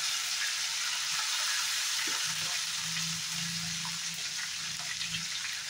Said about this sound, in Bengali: এখন আমি এখানে টমেটোটা একটু বয়েল করি নাই, কাঁচা টমেটোটা দিয়ে দিলাম।